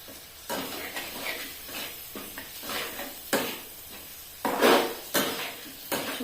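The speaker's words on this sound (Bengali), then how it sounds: "শুধু মশলা ভাজা হচ্ছে এখন" Spice masala for chicken momo frying in a pan, a soft sizzle under repeated scraping and stirring strokes of a spoon against the pan, close and irregular, with no talk.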